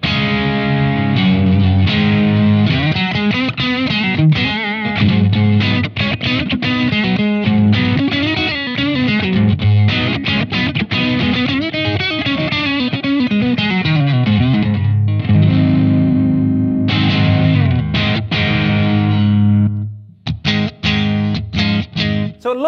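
Electric guitar crunch through a Department 10 dual drive pedal, a two-channel Blackstar overdrive with a tube inside, playing a loud continuous riff with chords and bends before cutting off near the end.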